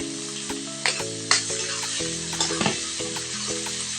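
Garlic and ginger paste frying in a pan, a loud, continuous close sizzle with occasional spatula knocks, accompanied by steady tonal notes in the background.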